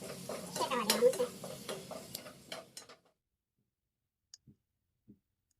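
Spices including chili powder and coriander roast in a pan for a bitter gourd dish, stirred with steady scraping and clicking strokes over a soft sizzle for about three seconds, then silence broken by a few faint isolated clicks.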